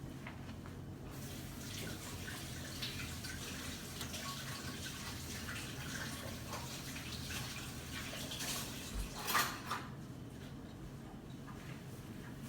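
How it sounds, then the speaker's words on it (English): Hands are rinsed under a running tap in a kitchen while preparing ribs, a steady quiet rush of water with a brief louder splash near the end and no talking. "Let me rinse my hands out before I go to the next step."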